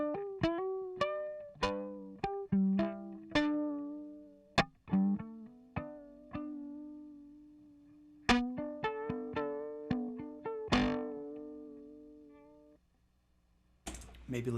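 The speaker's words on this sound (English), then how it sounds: "you should only hear the warped vinyl adding some sounds" A warped vinyl effect pedal adds a warbly chorus to a looped sequence of plucked synth notes, each note decaying with a wobbling pitch, moderately quiet with gaps between phrases.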